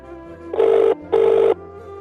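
A telephone rings twice in two evenly spaced, loud, close bursts, with a short silent gap between them.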